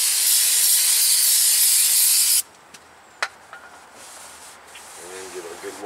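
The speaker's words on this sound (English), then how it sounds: "spray down the paper towel." Cleaner sprayed from a bottle onto a folded paper towel during a 2007 TrailBlazer front brake and rotor job: a loud, continuous hissing spray for about two seconds that cuts off abruptly, followed by a few faint handling taps.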